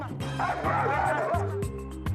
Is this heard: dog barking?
yes